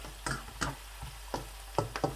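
Onion frying gently in a pan over a low flame for aloo mutter gajar, soft sizzling under a handful of sharp stirring clicks and taps spaced irregularly.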